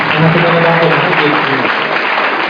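A church congregation claps together in worship, a dense and steady wash of applause with voices rising over it.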